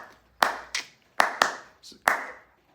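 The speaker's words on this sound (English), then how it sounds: "the 2 and 4 is when the claps come" Sharp hand claps, dry and close, come in pairs and singles at an uneven spacing, about five loud claps with fainter ones between them, and no other sound around them.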